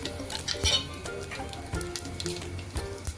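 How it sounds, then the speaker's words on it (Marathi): Cumin seeds dropped into hot oil in a pot, crackling and spitting in sharp bursts over a continuous sizzle, close and lively for a few seconds. "तेल गरम झालं का आपल्याला जिरे टाकून द्यायचे."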